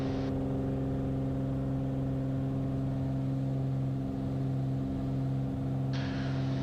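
A small airplane's engine holds a loud, steady droning hum with a strong tonal growl at full power during the takeoff roll from Boeing Field, with no change throughout and no voices.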